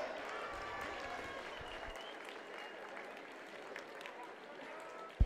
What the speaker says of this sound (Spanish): ¡Fuerte aplauso para el Pinocho!